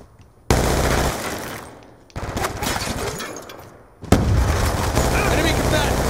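Heavy-recoil gunfire from the video game Black Ops 2 rips out in three loud, dense bursts separated by brief fading gaps, close and harsh with a shattering edge.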